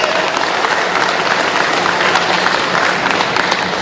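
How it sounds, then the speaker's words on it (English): A live audience at a bike show gives a big round of applause for a legendary guest, producing a dense, continuous roar of many hands clapping, loud and sustained with no break, with faint crowd voices mixed in. "big round of applause for R.L."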